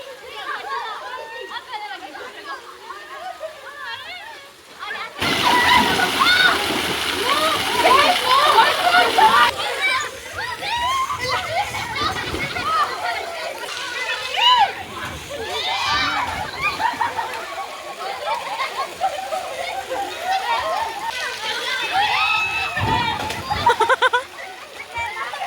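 Children splash and slosh in a pool on a school trip to Junglegali as a girl is lifted and dunked, with loud bursts of water and excited chatter and kids' voices throughout.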